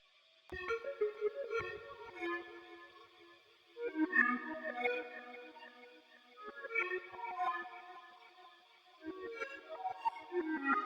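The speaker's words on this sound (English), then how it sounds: "I use this plugin that I've been using called Initial Reverse, and it basically just reverses melodies" A reversed chord melody in an ambient R&B beat, treated with EQ, plate reverb and a low delay, drifts in soft swelling phrases with echoing tails and brief near-silent gaps.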